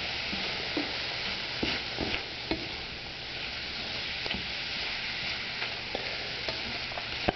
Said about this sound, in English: I'm going to add just a little bit of our cheese here. I'm going to stir these through.